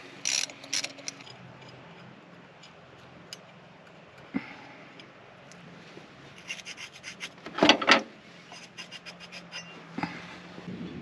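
Ratchet work loosening the water pump pulley on a Mercedes-Benz W210 E290 during a water pump and thermostat replacement, with scattered metallic clicks and rubbing, a brief burst of fast ratcheting in the middle, and quieter tool handling around it.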